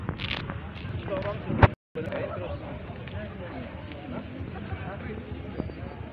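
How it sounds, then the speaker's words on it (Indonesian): Horses arriving for practice ahead of a traditional Gayo horse race in Bener Meriah clatter their hooves on the ground, mixed in with steady crowd chatter and nearby voices talking. "Ini ada beberapa kuda baru datang untuk berlatih."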